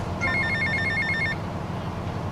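A phone rings in GTA Vice City, a quick run of repeated electronic ring tones over a steady background hum of game ambience, then the ringing stops partway through.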